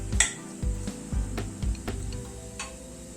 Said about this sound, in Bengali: পেঁয়াজটাকে হালকা করে একটু ভেজে নিচ্ছি, গ্যাসের ফ্লেমটাকে মিডিয়ামে রেখে।